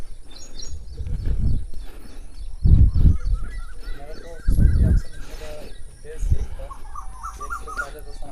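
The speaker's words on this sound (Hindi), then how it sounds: "और आप यहाँ पर कितने पक्षियों की आवाज़ें सुन रहे होंगे।" Many birds call across a farm field, with honking, goose-like cries coming in several loud bursts and fainter chirps scattered between them over a steady outdoor background.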